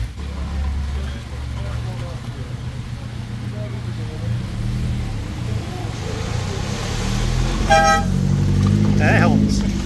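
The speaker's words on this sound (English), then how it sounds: "Air horns." Air horns blare near the end of a loud car meet, a bright harmonic blast rising above rumbling engines and crowd chatter, followed by a shorter wavering toot.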